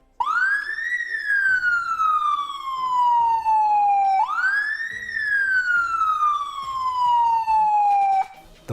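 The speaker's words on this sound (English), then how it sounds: "the blue one, that's the siren" Siren of the Mercedes-AMG Formula 1 medical car wails in two long rising-then-falling sweeps, loud and close, with nothing else over it.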